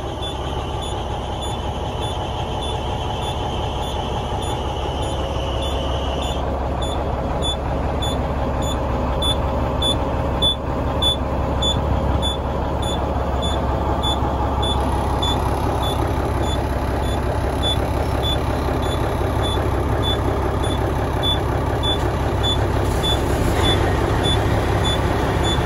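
An old truck's engine runs at idle during an auction inspection day, a constant low rumble with mechanical noise, while reversing beeps from another vehicle repeat steadily at a distance.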